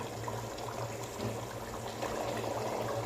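Kaleji (liver) cooking in a pan with added water, a steady close bubbling simmer with soft popping and sizzle, continuous and even throughout with no talking.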